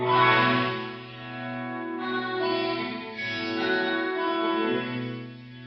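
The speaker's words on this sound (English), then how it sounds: "it's like someone is turning the loss knob and the amount of loss is changing" A sustained guitar tone runs through a Chase Bliss Lossy pedal, its lo-fi degradation swelling and dipping, the sound wavering and thinning in uneven waves.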